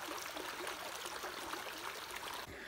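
A creek flows beside a campsite, a steady, fairly faint rush and babble of water that continues unbroken, with no talk.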